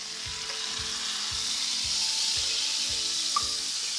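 A ribeye steak sizzles and fries steadily in a pan, a continuous close hiss broken by soft regular low thumps and one brief bright clink near the end, with no voices.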